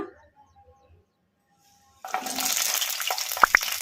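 Cut green chillies tipped into hot oil in a kadai start a steady, close frying hiss after a quiet start, with a couple of brief sharp crackles near the end.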